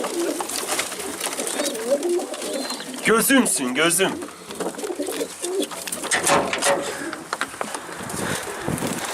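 Pigeons coo nearby amid rustling and fluttering, while a person speaks briefly over the birds.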